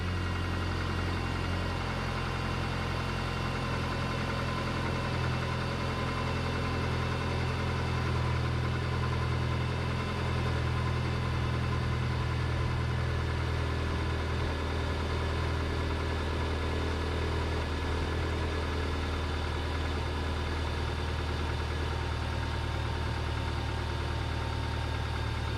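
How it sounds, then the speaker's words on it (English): A Subaru engine idles steadily with its air conditioning compressor engaged, giving a continuous low hum and rumble with faint mechanical knocking, close by and unbroken, with no voices. "As soon as I started letting some coolant in, or refrigerant in to the system, the compressor kicked on."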